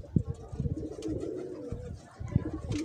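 Pigeons coo softly in a few short low bursts near a catching net, with faint bird chatter and background noise between the calls.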